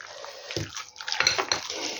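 Small amount of cold water poured into minced meat for a lavash casserole, a brief close liquid splash and drip amid soft kitchen handling noises, no voices.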